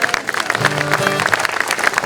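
Audience applause at a 2022 commencement ceremony, steady dense clapping filling the space with a faint tonal hum and some voices underneath.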